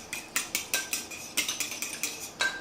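Kofta mixture with garlic being worked in a bowl, a run of sharp clinking taps from a utensil against the bowl, close and fairly quiet, repeating in a quick irregular rhythm.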